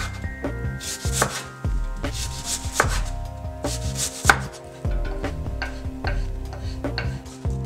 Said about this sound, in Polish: Obraną cebulę kroję w cienkie plasterki.